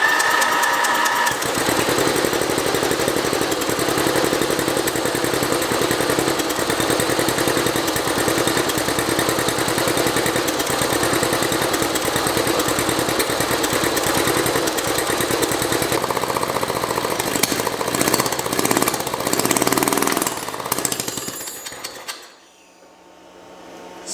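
A Craftsman lawn mower's small engine, fitted with a new spark plug, runs loud and close with a rough, rapid knocking chatter, holding for about twenty seconds before sputtering and cutting out into quiet.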